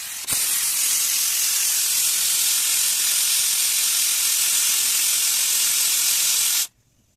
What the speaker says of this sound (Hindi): ये मारी मेरे कुकर ने सीटी